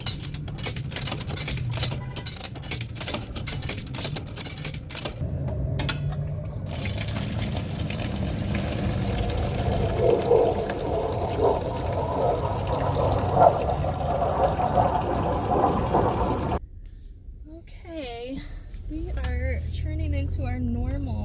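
Water gushes steadily into 5-gallon jugs at a coin-operated water station, a continuous close pouring and filling sound with a person talking over it, ending in a short quieter stretch.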